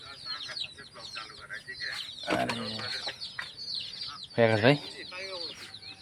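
Chickens cluck in short, nasal bursts around a rural home, several calls overlapping at close range with a few louder squawks, while a voice speaks briefly among them.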